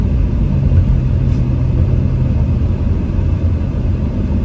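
A car drives steadily along a road, its engine and tyres making a constant loud low rumble with no breaks and no talking.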